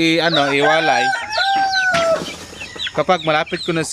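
Basilan and Zamboanga native chickens, young birds around two months old, cluck and call close by, overlapping cries and rising crow-like notes with brief chatter, over a voice talking.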